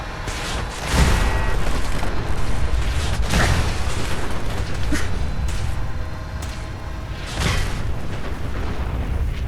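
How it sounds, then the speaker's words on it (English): Several booming explosions burst in quick succession in Fallout 4 over a constant, dense rumble, loud and close, with no talking. "the explosions even take out the turrets"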